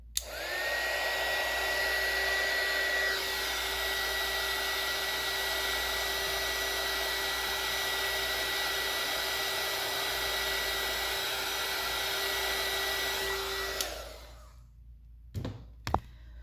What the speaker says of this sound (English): So you don't want to use the heat gun too long because it will actually start to cure your clay